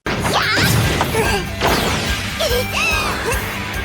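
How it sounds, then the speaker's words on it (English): Sharp wooden clacks and smashing hits of wooden weapons in a duel come in a rapid flurry, layered with whooshes and swishes of fast swings, loud and continuous throughout. "the sound of their wooden weapons smashing together was straight up brutal"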